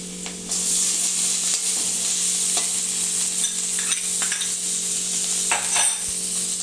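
Finely chopped onion hisses in hot oil in a pan for a prawn roast, a continuous close sizzle broken by occasional clicks and scrapes of stirring, with no talk.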